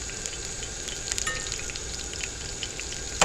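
Potatoes frying on a cast iron pan alongside hamburger steak give off a steady, close crackling sizzle with scattered sharp pops throughout.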